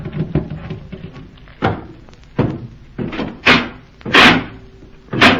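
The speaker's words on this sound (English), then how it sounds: "Break open some of those cases." Wooden crates being forced and broken open, a series of loud close knocks, thuds and cracking impacts spaced irregularly, several sharp bangs toward the end, with no one speaking.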